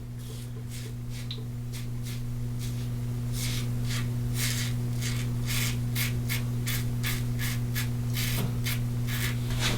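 A new slant bar safety razor is drawn across the grain of a face, making a steady series of close, crisp scraping strokes in a regular rhythm over a constant low hum, with no speech.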